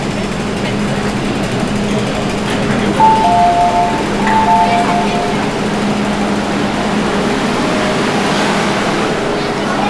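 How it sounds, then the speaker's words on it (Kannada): A metro train arrives at a station in Hong Kong with a loud, steady rumble filling the platform, and a short two-tone electronic chime rings out partway through. "ಇವಾಗ ನೋಡಿ ಮೆಟ್ರೋ ಬಂತ."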